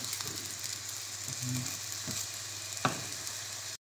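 Gnocchi sizzles in a pan as it browns and crisps, a continuous bright crackling hiss with a few soft pops and a faint stirring knock, ending abruptly.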